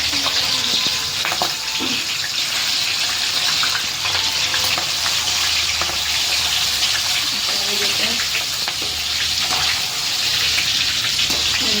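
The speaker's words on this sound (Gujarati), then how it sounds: "એટલે આપણે પહેલા મરચાં પાડી નાખવાના. તેલ ગરમ થઈ ગયું છે" Green chillies fry in hot oil for dal vada, giving a steady, loud, close crackling sizzle throughout with occasional sharper pops and a few stirring clinks.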